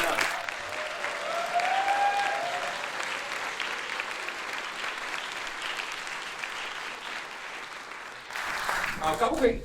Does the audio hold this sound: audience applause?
yes